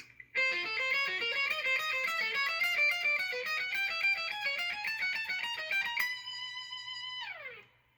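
A distorted electric guitar plays a quick alternating two-note riff climbing steadily, ending on a sustained chord that rings out and fades.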